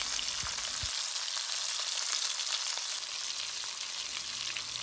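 Steak sizzles in a pan on the stove over medium-high heat, a steady, dense, loud frying hiss that runs throughout, with a couple of soft low knocks early on and no talking.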